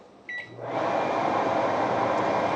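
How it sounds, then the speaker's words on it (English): An over-range microwave's vent fan switches on after a brief beep, then runs as a steady, loud whooshing hum with a low motor drone, blowing air out the top instead of the back. "when I turn the vent fan on"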